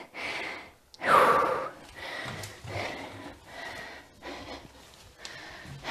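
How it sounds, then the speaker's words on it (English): Heavy breathing from a runner recovering between dumbbell glute-activation sets, a loud gasping intake followed by a steady series of rhythmic panting breaths, close and alone. "Let's get my breath back."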